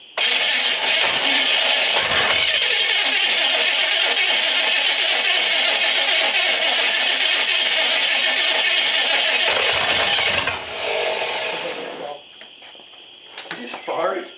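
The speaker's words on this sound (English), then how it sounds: "I thought the damn engine made a hell of a noise" A big-block engine in an old Chevrolet squarebody dually truck cranks and roars, holding a loud rumbling drone for several seconds before dropping off, with voices and clatter near the end.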